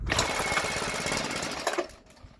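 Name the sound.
weed eater engine being started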